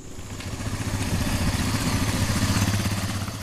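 A motorbike carrying a medical worker rides over sandy tracks and rough terrain, its mid-pitched engine droning steadily and close with a rapid pulsing beat and faint clatter, no voices over it.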